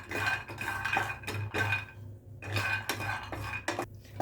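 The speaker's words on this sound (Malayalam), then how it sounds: "ഇനി നമുക്കൊരു പാൻ വെച്ചിട്ട് ചൂടാക്കിയിട്ട് നമുക്ക് ഈ കപ്പലണ്ടി നല്ലോണം ജസ്റ്റ് ഒന്ന് വറുത്ത് മാറ്റി വെക്കാം" Peanuts roasting in a hot pan while being stirred, a steady run of metallic scraping and clinking strokes from a utensil against the pan, close and fairly loud, with short pauses between bursts over a low hum.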